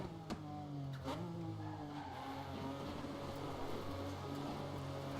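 Off-road buggy racing in DIRT 3, steady engine drone with gear shifts and tyre skids over gravel, loud and continuous throughout with brief sharp transients near the start.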